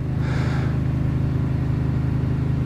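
A Craftsman lawn tractor engine runs outdoors at a steady, unbroken idle, its low droning hum holding even throughout with no voices.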